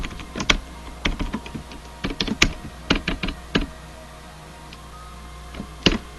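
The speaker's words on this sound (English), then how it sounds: "I just continue on typing into here as usual." Keystrokes on a computer keyboard while a personal website is updated, coming in quick irregular bursts of close, crisp clicks with a lull in the middle and a final cluster at the end.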